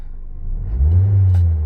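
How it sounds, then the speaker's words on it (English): A Mazda MX-5 1.8i Sport Graphite roadster engine rises from a low idle rumble into a strong, close rev that swells after the first second and holds steady and loud to the end, with no talk over it. "And when you rev it there, look at that."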